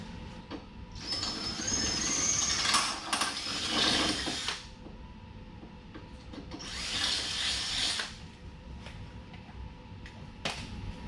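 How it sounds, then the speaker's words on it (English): A drill whirs in two extended bursts, grinding into metal with a high whine while drilling out a bolt hole on a Toyota FJ80, separated by a quieter pause with faint clicks and handling noise. "it's able to drill it out"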